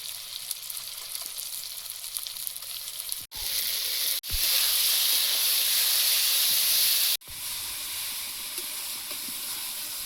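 Ground spice paste fries in hot oil for chicken kasa, a steady loud sizzle and hiss that surges brighter midway, with a few short breaks, and no voices.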